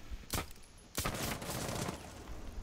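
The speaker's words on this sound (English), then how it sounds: "someone just shot through this wall" Gunfire through a wall in Rainbow Six Siege, two sharp loud bursts of shots followed by a sustained rattle of rapid fire and debris that carries on under quiet game ambience, with no voices.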